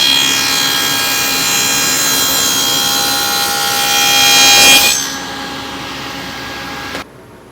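A saw makes a test cut through plywood for a workshop wall cabinet, a loud, close, steady whine that rises near the end and then spins down, with a brief clunk before it falls quiet.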